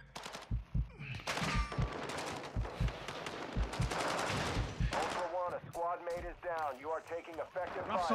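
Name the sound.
gunfire in the video game Brothers in Arms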